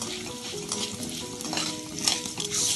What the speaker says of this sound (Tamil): கொத்தமல்லி வரை 1 பரட்டல் பரட்டினதுமே கடலைப்பருப்பு துவரம்பருப்பு எல்லாத்தையும் போட்டுக்கணும்